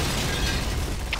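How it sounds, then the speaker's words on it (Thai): A grenade blast in the shooter game Point Blank, a dense loud burst of noise filling the whole short moment, close and booming, with no voices heard. "โดนระเบิดตรงหน้า"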